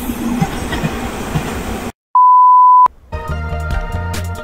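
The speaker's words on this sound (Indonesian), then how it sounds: "ada kereta lewat." A train passes with a loud, steady rumble and rattle. A sustained electronic beep briefly cuts in before the rolling train noise returns.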